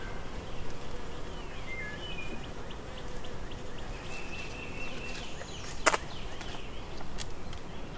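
Carniolan honey bees buzzing around an open hive, a soft steady hum with individual bees droning past close by and one brief sharp knock partway through.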